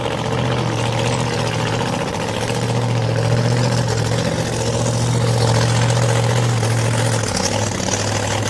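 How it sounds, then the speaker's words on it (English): A drag racing car's big Hemi engine rumbles steadily, a deep, loud, throaty idle with an uneven, lumpy beat that carries on alone with no voices. "And the big Hemi just rumbles back"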